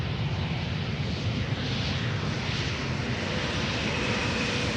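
A fixed-wing airliner arriving at Amsterdam Schiphol Airport roars steadily and loudly throughout, with a continuous broadband engine rumble and no voices.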